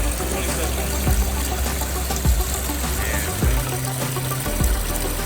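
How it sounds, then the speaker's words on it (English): Water running along a backyard pond stream beside a patio, a steady rushing flow heard up close, with a few low thumps and a faint engine-like hum beneath it. "we extended the stream out right here just to make the water feature a little bit bigger"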